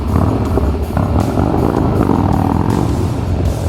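A motorcycle engine revs hard and accelerates, loud and close, with a steady rumble pulsing through repeated throttle surges and no break across the short stretch.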